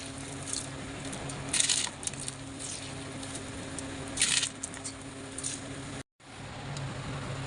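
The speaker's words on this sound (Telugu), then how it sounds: "ఇప్పుడు మరుగుతున్న వాటర్లో రైస్ వేసుకోవాలి" Soaked rice tipped into salted boiling water for chicken dum biryani, giving two brief splashing pours over a steady bubbling, humming background.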